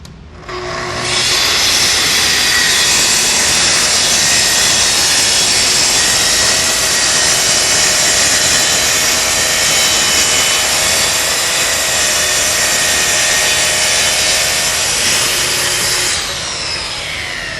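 A saw runs along a guide rail through a countertop in one long, continuous, loud cut of about fifteen seconds, starting and stopping cleanly with a bright, rasping whine.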